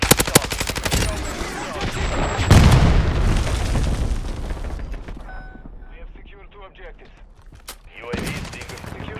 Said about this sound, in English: Friendly cruise missile approaching.